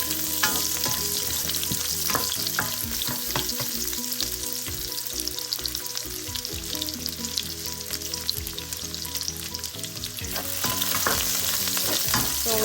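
Mashed garlic sizzling in hot oil in a pan, frying steadily and loudly while a utensil scrapes and stirs in irregular strokes, alone without voices.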